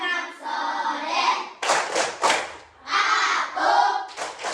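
Third-grade children at an Islamic religious-education primary class clap the tepuk anak soleh rhythm together, with short bursts of group clapping separated by brief pauses. The children's chanting voices mingle with the claps.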